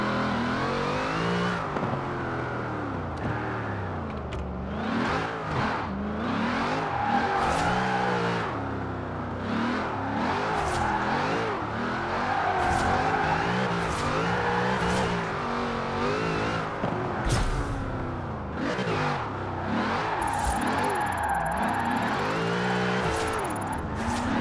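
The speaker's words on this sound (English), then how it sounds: "What I think I'm going to do now is try and do some skids, and I mean drifting" Car drifting in Forza Horizon 4 driven on a Logitech G920 wheel and pedals, engine revving up and down continuously with tire squeal and skidding bursts, loud and steady throughout without talk.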